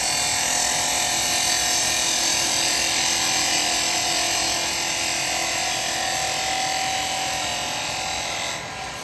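A woodturning lathe spins as a bevel-rubbing tool cuts into wood, giving a loud, steady high whine and hiss that holds evenly for several seconds and then eases off slightly at the end, close and with no voices.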